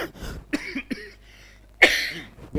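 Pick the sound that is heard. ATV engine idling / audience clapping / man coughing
man coughing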